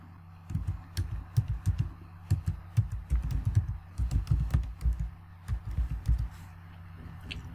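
Login details being typed on a computer keyboard, a quick run of irregular clicking keystrokes in bursts with short pauses, close and fairly quiet, with no talking.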